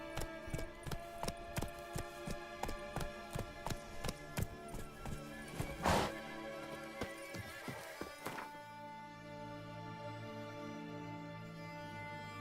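Roach, the horse in The Witcher 3, gallops in a steady run of loud hoofbeats with a neigh or whinny in the middle; the hooves stop and a lower, steady rumble of game ambience takes over.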